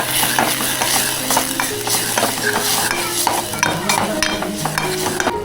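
A ground spice paste sautés in oil and is stirred in a pan, with a constant loud sizzle broken by frequent scraping and clinking of the spoon against the pan.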